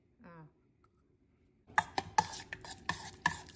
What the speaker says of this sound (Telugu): మంచిగా మిక్స్ చేయాలి